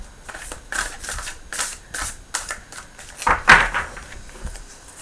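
Large oracle cards being shuffled for a tarot-style reading, giving a series of soft papery riffles and slaps close by, some louder bursts near the middle, with no talking.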